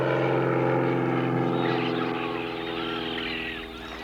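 Steady drone of a reconnaissance propeller plane flying over a desert lagoon, a continuous hum with a buzzing engine tone that stays loud and even before easing slightly toward the end.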